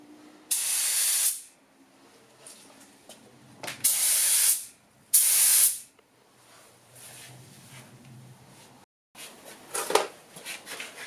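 Spray paint is applied to old fibreglass in three loud hissing bursts of about one second each, separated by quiet pauses, with faint handling noise near the end.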